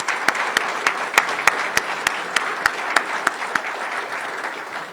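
Formal evening event audience giving a round of applause for a team, dense steady clapping filling the room with several sharp, louder claps standing out at fairly regular intervals, no speech over it.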